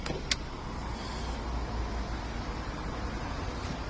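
Electric window on a car sliding down after lubrication of its channel, a steady low motor hum running evenly for several seconds with no judder, close by and without talk.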